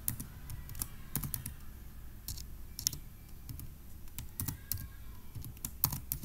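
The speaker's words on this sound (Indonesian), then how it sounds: "ngetik biasa gitu ya" Ordinary typing on a computer keyboard while filling in a spreadsheet, a steady patter of soft, close key clicks with a few louder taps, no voices.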